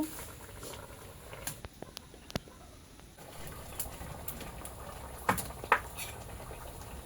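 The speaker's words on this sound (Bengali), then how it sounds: "তরকারিটা উতলে গেছে এখন আমি আরও কিছুক্ষণ জাল করে নিব" A pan of pangas fish curry bubbles at a low simmer, giving soft, scattered pops and crackles with a few sharper spits, fairly faint and steady throughout.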